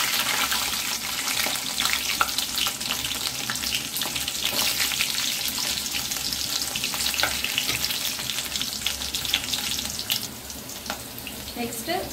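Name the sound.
garlic frying in oil for fish curry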